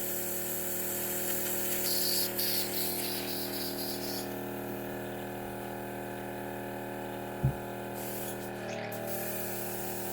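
Airbrush spraying blush makeup, a steady continuous hiss with a constant motor hum beneath, lasting most of the clip with a brief click near the end.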